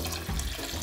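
500 ml of water runs and splashes briefly into a pan of seafood rice, a short close gurgling pour with no speech.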